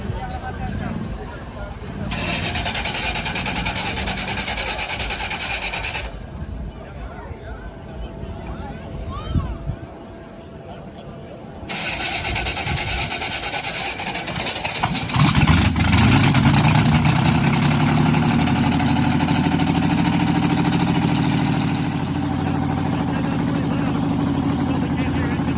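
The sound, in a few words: classic car engine starting and idling at cruise-in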